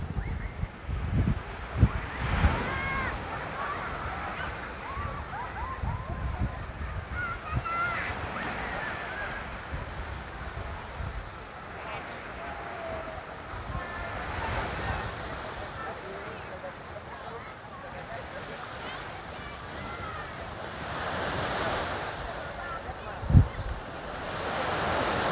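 Ocean waves roll and break at Sundak Beach in Yogyakarta, Indonesia. The surf washes in under gusty wind and microphone buffeting, with people talking intermittently over the steady roar.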